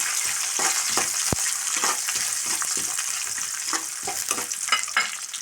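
Half a coconut's worth of grated coconut roasts in two tablespoons of coconut oil in a pan, a steady close sizzle broken by frequent scraping stirs and small clicks of a spoon against the pan.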